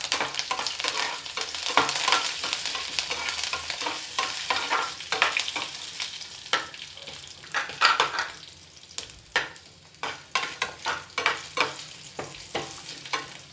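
Green chilies and curry leaves frying in hot oil for tomato rice, a steady close sizzle with repeated stirring scrapes and clicks of a spoon against the pan, no talking.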